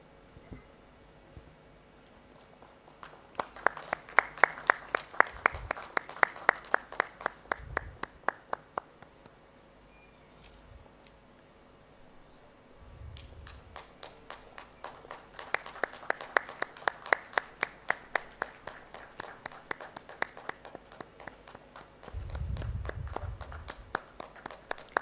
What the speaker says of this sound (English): I see a lot of applause from our dignitaries on stage.